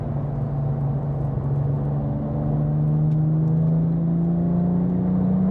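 A steady, deep engine drone with a slowly rising pitch from a Porsche 997.2 GT3 cruising and gradually building revs, loud and continuous throughout.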